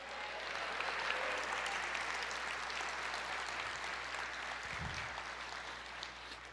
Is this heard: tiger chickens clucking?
no